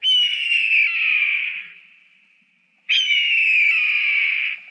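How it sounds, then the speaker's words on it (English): Two long, piercing eagle screeches ring out, each a harsh high cry lasting about two seconds with a pause between, loud and close. "We can't play this crazy chirping noise that the eagles actually make. This screeching noise."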